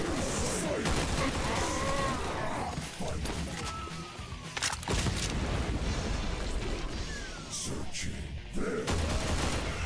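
Gunfire in a survival horror video game aimed at a barrel: repeated rapid bursts of shots with short pauses between volleys, loud and close, with brief sharp cracks punctuating the rattle.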